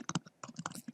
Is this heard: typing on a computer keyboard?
yes